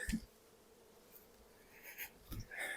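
Honey bees around a calm hive, faint scattered buzzing as individual bees pass close by in short bursts over a quiet background, no talking.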